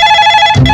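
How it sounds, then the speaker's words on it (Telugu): A telephone rings with a sharp, loud electronic bell tone, one short burst cut off at the end. "రింగ్ అవుతుందిరా"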